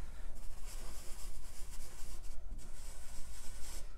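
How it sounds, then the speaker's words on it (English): A slightly damp paper towel rubbed over painted cloud shapes on furniture, making a continuous close scratchy, swishing rub in uneven repeated strokes, with no voices. "You're gonna move your paper towel around because it's gonna get a lot of paint on it"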